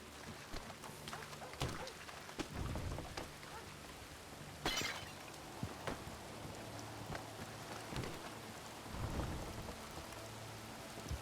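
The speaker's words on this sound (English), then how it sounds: "Let's get out of the rain." Rain falls in the video game Red Dead Redemption 2 on a roleplay server, a steady patter on surfaces with sharp cracks and low rumbles of thunder breaking through at intervals.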